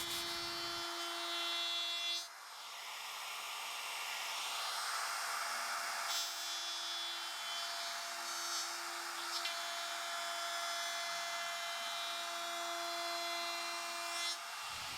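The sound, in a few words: router chamfering wood edges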